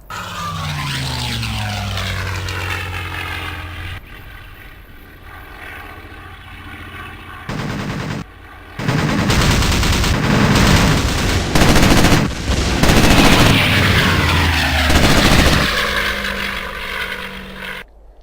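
Cannons and machine guns fire from a warplane in a flight game mod. Propeller drone and engine noise run underneath, then loud bursts follow: a sharper 15mm MG151 cannon, a booming 20mm cannon, and a short rattle from the MG17 machine guns.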